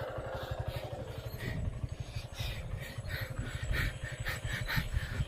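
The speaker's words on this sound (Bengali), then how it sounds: "বাইক নাকি চাবি ছাড়াই চলছে ওয়াও আজব" A motorcycle engine runs steadily at close range with a pulsing low rumble and some clatter, moving along throughout.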